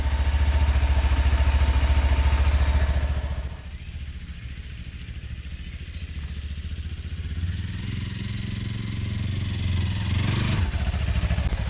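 Engine of a Bounder motorhome idling while warming up on a frosty morning, a steady close low rumble that drops in level partway through and then swells again, with no talking.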